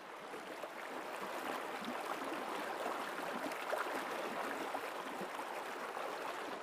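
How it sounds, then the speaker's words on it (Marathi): Soft, steady rushing of a babbling stream at Teli Wadi in the Konkan, faint and continuous with no voices. "हा पाण्याचा खळखळाट ऐकताय का तुम्ही?"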